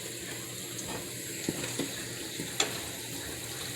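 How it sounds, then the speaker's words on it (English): Tomato curry sauce with potatoes simmering in a pot, giving a steady, soft bubbling hiss with a few faint pops, close by and alone. "Just let it boil until your potatoes are cooked."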